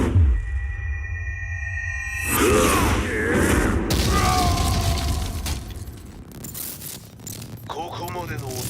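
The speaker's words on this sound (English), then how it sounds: "Explosion confirmed at the Mishima dojo." Explosion at the Mishima dojo in the video game Tekken 7, a sudden heavy boom with shattering debris and rumbling aftermath amid cinematic effects and electronic tones.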